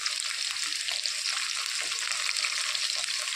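Potatoes frying in a pan with a little salt added, giving a steady, close hiss of bright sizzling oil with no one speaking.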